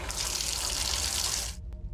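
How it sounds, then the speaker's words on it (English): Hot water gushing steadily from a bath tap in a horror video game, a loud continuous hiss of running water that cuts off abruptly near the end, leaving a brief quiet tail. "Let's run some hot water,"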